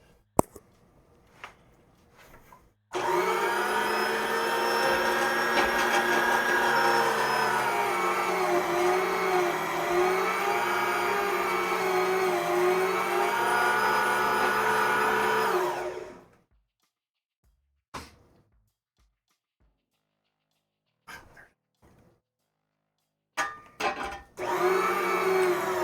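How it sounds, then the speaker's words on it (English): An electric grinder grinds something up with a loud, close, steady motor whir lasting roughly thirteen seconds, its pitch wavering slightly. Quiet stretches with a few small knocks and clicks come before and after. "I'm going to go ahead and grind this up and be right back"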